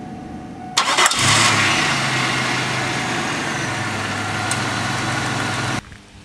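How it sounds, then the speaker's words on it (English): A 2002 Pontiac Grand Prix engine cranks and catches after an oil change, then settles into a loud, steady idle close by before being shut off, with no one talking. "we're going to go ahead and start the car"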